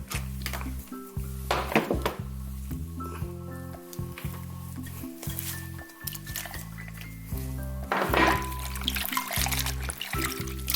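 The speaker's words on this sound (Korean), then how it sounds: "이거 물에다가 한번 담가 볼게요" Salted kelp is soaked in water, giving soft wet squishes, drips and small splashes in irregular bursts at close range under a faint steady hum.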